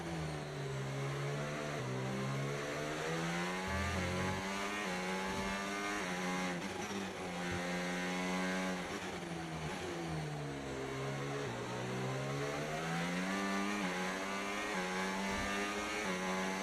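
Formula One race car engine in the F1 game's Breaking Point 3 story, revving high and dropping through gear changes over a lap, rising and falling pitch with steady loud drone and no voices.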